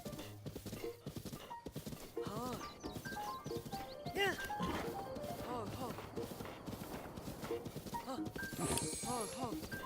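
Hooves clip-clop steadily with a horse's whinny over background music and game sounds in The Legend of Zelda: Breath of the Wild, with a voice talking throughout.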